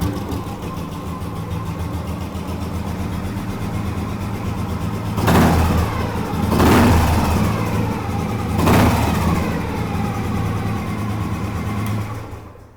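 A restored vintage Deluxe vehicle engine runs at a steady, loud idle up close, then revs three times in quick swells before settling back and cutting off at the end.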